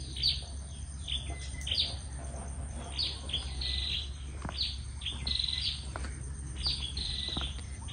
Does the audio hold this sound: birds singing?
yes